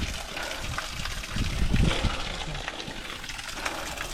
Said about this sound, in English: Probably coming from the irrigation.